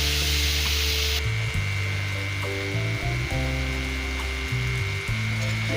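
Chicken and bitter gourd (karela) frying in a pan, a loud continuous sizzle over a steady low hum with faint stirring underneath.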